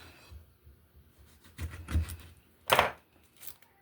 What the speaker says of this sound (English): So we're gonna cut the lemon